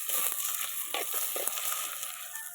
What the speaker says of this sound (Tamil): நல்லா மண் சட்டியில் நல்லா வதக்கி விடலாம்